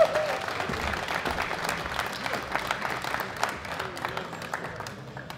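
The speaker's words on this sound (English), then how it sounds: "All right, give them a round of applause." An audience at a world classic powerlifting championship breaks into applause, a sustained wash of clapping that gradually fades, with a few voices and crowd murmur mixed in.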